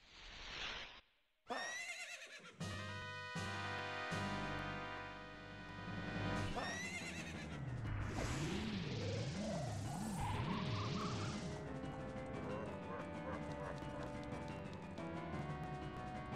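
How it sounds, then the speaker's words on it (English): A horse neighs and whinnies in The Legend of Zelda: Ocarina of Time, loud, high, wavering calls repeated over game music and sound effects, with faint trotting hoofbeats in the mix. "how did this horse get behind me?"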